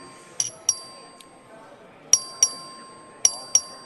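Bell struck by the clerk during a legislative record vote in a chamber, heard as three pairs of bright metallic dings spaced across the moment, each ringing briefly with a clear tone.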